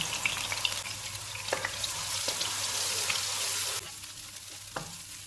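Onion paste frying in hot oil over low-to-medium heat for an egg and potato curry, giving a soft, continuous sizzle with occasional spoon taps, fairly quiet throughout.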